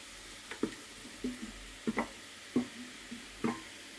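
Fried potatoes going into an aloo carrot curry in a pan, heard as soft scattered sizzles and stirring scrapes, several brief taps and bumps over a faint hiss.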